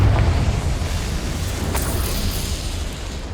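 A Confringo blasting spell explodes in Hogwarts Legacy, a loud sustained booming roar with heavy low rumble and crackling debris that holds steady for a few seconds, with no voices.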